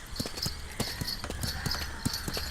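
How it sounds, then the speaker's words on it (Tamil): Horse hooves clip-clopping on a beach, a steady run of close, crisp hoofbeats at a quick trotting rhythm, heard alone without talk. "கோழிக்கோடு பீச்சில் நம்ம கூட்டுக்காரன் சாப்பிளனோட குதிரை அப்படி இருக்கு சகாவே."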